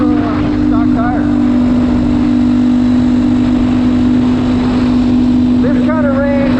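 GPX Moto FSE300R dual sport motorcycle running at about 45 mph and 6,000 RPM in sixth gear, a steady loud engine drone with a strong constant tone, heavy wind noise and a voice talking over it throughout.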